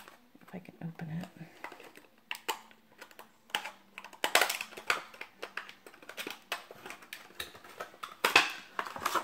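Crinkly plastic rustles and sharp crackling taps as a washi tape package is pulled open up close, irregular bursts growing louder toward the end, with a soft voice murmuring early on.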